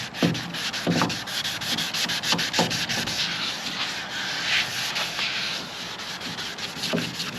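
Wet sanding of cracked gelcoat on a boat console: a steady, close rubbing and scrubbing texture with soft rhythmic strokes, continuous throughout with no talking.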